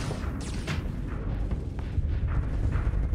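Missiles striking a ship in the space combat game Starsector, a continuous rumble of dull booms and bursts with a few sharper hits, dense and loud throughout with no clear gaps.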